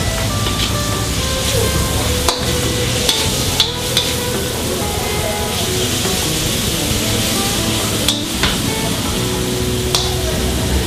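Pork liver and meat with pepper fry in a pan, giving a dense, continuous sizzle with occasional clatter of stirring throughout.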